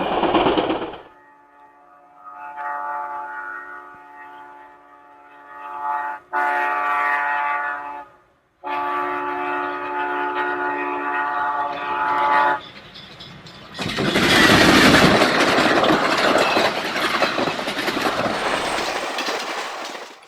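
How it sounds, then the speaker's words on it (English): An ABBB set of Santa Fe F7 diesel locomotives hauls the San Francisco Chief, Train Number 2, east near Oakland: loud engine drone with long horn blasts, then rushing, clattering wheels as the train passes close. "Near Oakland, an ABBB set of F7s rocket east with San Francisco Chief Train Number 2."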